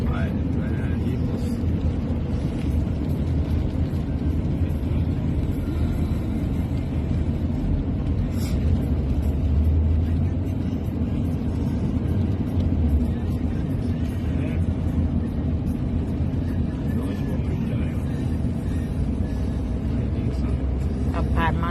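Car interior on a drive to a Thai grocery store, with a steady low engine and road rumble continuing throughout, moderately loud and unbroken, with faint voices occasionally underneath.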